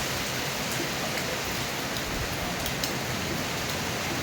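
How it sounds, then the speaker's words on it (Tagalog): A constant downpour of heavy rain, dense and loud, with occasional sharper drops pattering close by. "Grabe yung ulan"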